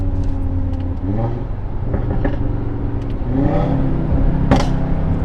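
A stage 2 tuned Audi RS3 engine pulls hard through the gears with the back windows down, its steady drone rising in pitch with each shift and heard from inside the cabin.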